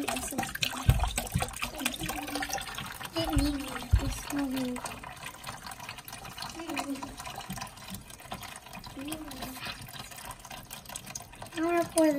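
Liquid broth poured from a container into a turkey brine, giving a continuous splashing, gurgling pour with people talking over it throughout.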